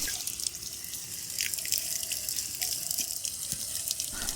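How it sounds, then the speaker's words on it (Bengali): Water from a powerful 12-volt mini water pump splashes and drips steadily, a close, continuous trickling spray landing some distance away, with faint incidental tones over the flow and no talking. "এই ওয়াটার পাম্পটির মোটরটি বেশ শক্তিশালী, তাই জল বেশ দূরে গিয়েই পড়ছে।"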